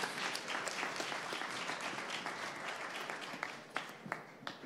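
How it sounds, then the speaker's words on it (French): An audience at a pitch marathon session claps steadily for a speaker, a fairly faint, even wash of applause with a few sharper individual claps near the end. "On peut l'applaudir fort."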